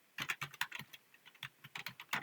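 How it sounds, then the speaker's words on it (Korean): Typing on a computer keyboard while filling in a spreadsheet, a close, uneven run of crisp key clicks with short pauses and no talking. "타이핑을 칠 수밖에 없겠네."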